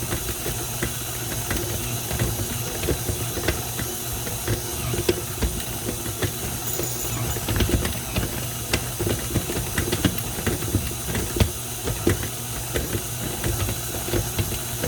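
A stand mixer with a dough hook kneads bread dough, giving a steady mechanical whir with rhythmic clicking and knocking, continuous and fairly close, with no talk.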